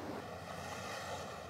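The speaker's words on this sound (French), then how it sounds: "Les vagues vont s'écraser sur ces flotteurs bleus et elles les soulèvent." Small ocean waves wash against blue wave-energy floats sitting on the water, a steady soft surf hiss mixed with wind noise, faint and continuous with no talking.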